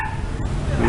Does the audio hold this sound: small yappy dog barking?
yes